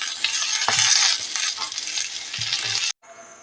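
Cumin, pepper, tamarind and coconut pieces fry in a pan, giving a steady loud sizzle broken by scraping stirring strokes and an occasional light clink before it cuts off abruptly near the end.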